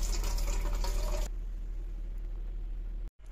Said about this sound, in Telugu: ఇప్పుడు మనము దీన్ని ఇట్లా హోల్స్ ఉన్న గిన్నెలకి ఉంచుకుందాం